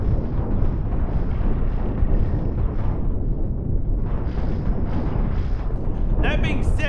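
Flak cannon fire from a spaceship in Cosmoteer, a dense, continuous barrage of muffled booms and crackling bursts rumbling throughout, with a voice talking over it.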